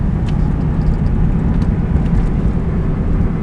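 Steady broadband road and tire roar from a 2003 Chevy Avalanche crew cab 4x4 with a 5.3 liter Vortec V8, driving at a constant pace, a continuous low rumbling drone with no breaks.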